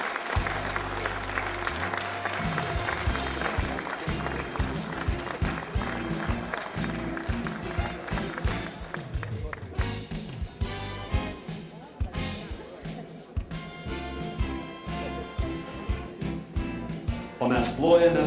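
Audience applause for the nominees and winner at a Lithuanian February 16 Independence Day ceremony in 2012, sustained clapping over music for the whole stretch, with voices mixed in.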